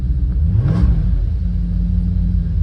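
A 1995 BMW E34 540i with the M60 V8 turns over and catches, then settles into a steady low, rough idle that stays loud and close throughout.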